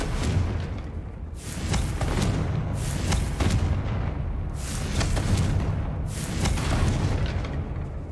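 Deep booming bursts from the Confringo fire spell in Hogwarts Legacy go off one after another about every one to two seconds, each a loud explosive thump over a continuous rumbling background.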